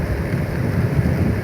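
Steady rain drumming on a car while driving along EDSA in Metro Manila, a close, even hiss with low rumbling road noise underneath and no talking.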